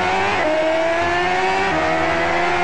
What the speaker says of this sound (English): Here the camera is actually understanding how you're holding the paper and playing the car racing game.